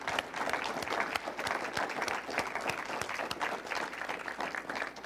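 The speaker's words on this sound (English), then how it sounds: "How about a round of applause and a thank you to our candidates?" Audience applause at an agricultural legislative forum in South Dakota, a dense steady clapping from a room crowd lasting about five seconds without a break, fairly loud and even throughout.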